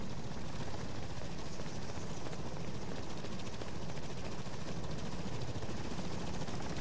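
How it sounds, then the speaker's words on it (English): Helicopter rotor noise from the video game Lost Alpha: a loud, continuous, rapidly chopping roar that fills the whole stretch, with a dense, rattling texture and no pauses. "the chopper noise is so mighty"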